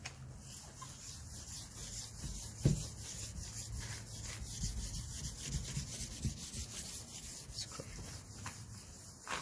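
Soft, steady rubbing and gritty scraping of a clay bar on smooth car paint, faint and close, with a few light knocks along the way.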